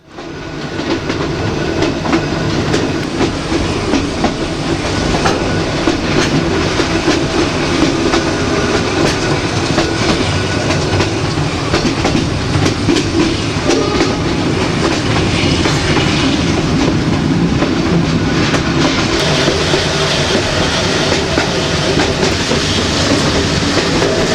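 A train runs on the single-track Hanoi to Ho Chi Minh line through a mountain pass, a loud continuous rumble with rhythmic wheel clatter heard from close by for the whole stretch, without voices.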